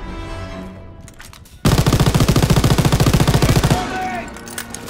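In a World War II video game, after a quieter lead-in, a machine gun bursts into loud, rapid sustained fire lasting a couple of seconds, then trails off into lingering battle noise.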